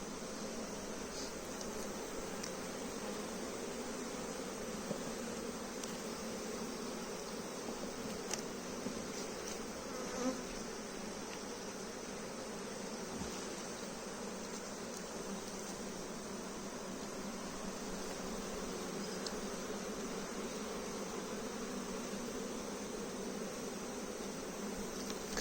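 Honey bees buzz steadily at an open hive, a dense, close, continuous drone that stays even for the whole stretch, with faint handling sounds and no clear talk.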